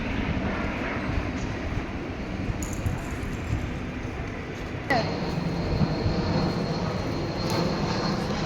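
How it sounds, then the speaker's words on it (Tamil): A large passenger plane flies low overhead near Heathrow in Hounslow, London, its engine roar steady and loud throughout, with a sharp clink midway and street sounds beneath. "நம்ம பேசிக்கிட்டே இருக்கும்போது அடுத்த ஃப்ளைட்டு."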